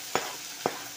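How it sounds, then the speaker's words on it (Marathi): Finely chopped onion fries in oil with cumin, asafoetida and a bay leaf for a cauliflower-potato dish, giving a constant close sizzle broken by two quick stirring scrapes. "कांदा आता आपल्याला लालसर होईपर्यंत परतवत राहायचं आहे"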